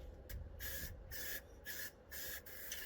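A spray can of black high-temperature paint coats the inside of a barbecue in four steady hissing bursts separated by brief pauses, close and quiet over a low background rumble.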